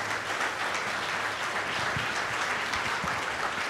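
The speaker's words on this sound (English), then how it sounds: "Could we hear a round of applause for them" An audience at a business seminar bursts into sustained applause, a dense, even wash of many hands clapping that holds steady throughout at a fairly loud level.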